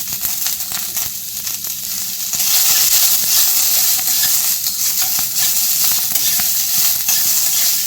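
Onion, garlic and ginger fry in hot oil in a pan for a Maharashtrian misal, giving a steady broad sizzle that swells louder after about two seconds, with faint crackles and stirring and no voices.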